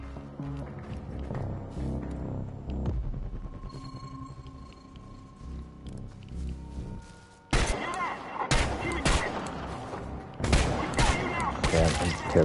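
Gunfire in the Chernobylite video game: quieter game ambience at first, then loud bursts of shots erupt in the second half, with clustered reports and thuds close by.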